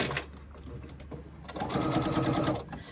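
Sewing machine top-stitching a narrow seam across a sling pocket, starting after a few soft clicks into a loud, close, rapid steady stitching run for the remaining second and a half.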